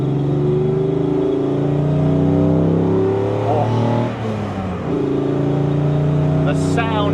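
A Mercedes W220 S600 V12 engine revs up and falls back, the pitch climbing in smooth sweeps, dipping briefly, then rising again, loud and close.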